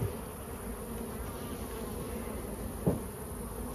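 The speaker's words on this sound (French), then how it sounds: "très belle colonie qui devrait partir en ruche, mais j'en ai pas de ruche" Buzzing of a honeybee colony at a hive, a steady, dense drone that holds throughout, with one brief louder rise near the end.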